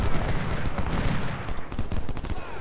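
Massed musket fire and artillery from the Battle of Gettysburg in the Civil War strategy game Ultimate General: Civil War, a loud dense crackle of many overlapping shots and booms, continuous throughout.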